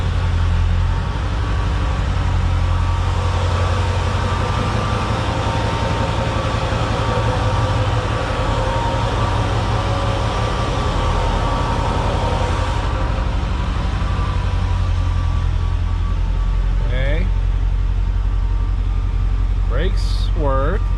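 A Ford Super Duty pickup with a 7.3 Powerstroke diesel drives off on a test run after an axle swap, giving a loud steady engine drone with a rumbling low end and brief voices near the end.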